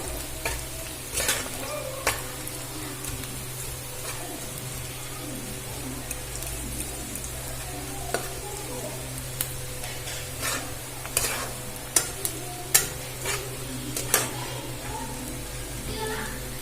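Whole spices, cinnamon, mace, cloves, black peppercorns and cardamom, frying in a pan, a continuous sizzle broken by sharp stirring clicks and pops, with some faint background noise and no speech.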